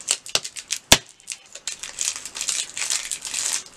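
A hard toffee candy is whacked and then unwrapped: one sharp crack near the start, followed by a run of close crinkling and rustling wrapper sounds with no talking.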